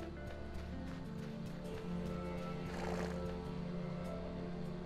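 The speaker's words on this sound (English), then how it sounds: "Can I buy these horses?" Horses in the video game Weird West: a whinny rises out of a dense ambient bed with a low drone and scattered soft clops, heard near and fairly loud over about five seconds.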